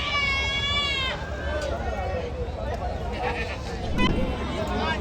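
Sheep and goats at a large Maharashtra livestock market let out a long wavering bleat up close, followed by scattered fainter bleats amid steady crowd bustle and nearby voices.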